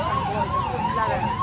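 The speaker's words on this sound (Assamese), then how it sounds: "এই জামত ফাঁচি গ'ল এইখন এম্বুলেঞ্চ" Ambulance stuck in a traffic jam caused by clinker trucks, its wailing siren rising and falling continuously, loud and close, with traffic rumble beneath.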